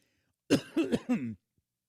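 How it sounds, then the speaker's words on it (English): A short burst of three or four harsh, close coughs in quick succession from someone who swallowed a drink the wrong way, then silence. "Took a sip, started coughing, swallowing it the wrong way"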